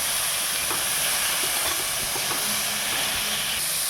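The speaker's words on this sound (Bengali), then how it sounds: "এখন জল ছেড়ে দেব" Water poured into a hot pan while cooking chowmein sets off a loud, continuous steamy hiss that holds steady, close and unbroken, for the whole stretch.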